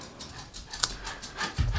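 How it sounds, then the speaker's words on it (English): A dog pants rapidly and steadily close by indoors, a rhythmic series of breathy huffs over a couple of seconds, heard on its own without talk. "Do you hear the panting of a dog?"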